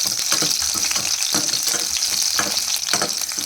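Garlic frying in a pan for a Kannada-style halasande (cowpea) palya, a steady close sizzle with crackling bursts and occasional stirring scrapes, continuous and fairly loud with no talking.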